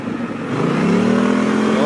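BMW C 650 Sport maxi-scooter cruising on an expressway, its engine note steady and rising slightly as speed builds, with loud wind rush throughout and someone talking over it.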